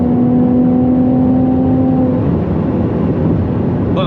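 A Ferrari accelerating hard on the Autobahn, a loud sustained engine note with strong harmonics rising through the first two seconds, then settling into steady road and wind roar close by.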